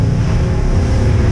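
Wind-driven ocean waves of about 5 to 6 feet heard from a fishing boat near shore off Newport, Oregon: a steady, loud broadband rush of wind and water with low rumbling, no talk.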